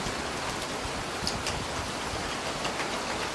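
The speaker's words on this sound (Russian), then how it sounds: "И вот сейчас, вы видите, пошел дождик." Rain falls on Alexandrovskaya Square in Stavropol, a city square with fountains, as a steady, soft, even hiss with no voices.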